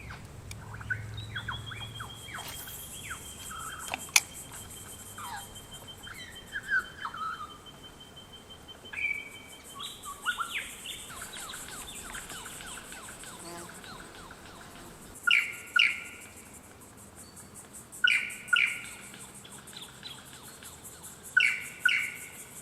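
A lyrebird in the Australian bush mimics a run of different bird calls, some with whistled notes and sharp chirps, then a series of repeated clipped call bursts, moderately distant with quiet surroundings.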